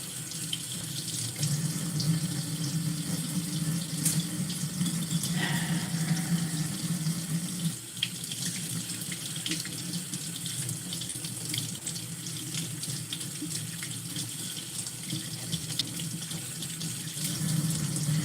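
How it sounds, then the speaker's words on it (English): Kitchen tap water runs steadily into a sink while chicken thighs are rinsed before smoking, a continuous close hiss and splash with small shifts in flow, no voices. "One of the reasons that I also want to talk about rinsing your meat"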